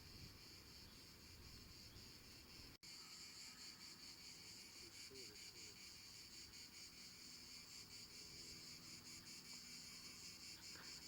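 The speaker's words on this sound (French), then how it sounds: "Les criquets de la côte atlantique. Quand je dis les criquets, non, les cigales." Cicadas shrill in a steady, dense chorus along a wooded Atlantic coast trail, an unbroken buzzing drone that fills the whole stretch at moderate distance, interrupted once by a brief sharp click.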